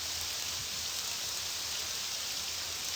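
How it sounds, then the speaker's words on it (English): Rain falls in a video game as a steady, even hiss that holds at a constant loudness throughout, with no voices and no other distinct sounds. "Seems to be raining on what's about to happen."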